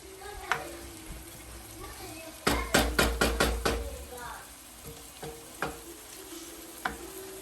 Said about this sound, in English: now I'm just gonna wait for the onion to cook